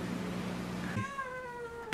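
A young female cat lets out a single drawn-out, clear meow in the second half, close and fairly loud, preceded by low room noise and ending with a short bump.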